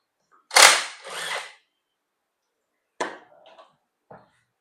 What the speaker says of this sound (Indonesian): di bagian soket ini dibuka dulu nih dari baut 10-nya